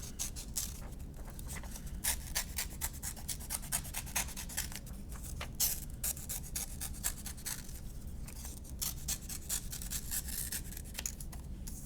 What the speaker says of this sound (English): Let's cut out this great oval.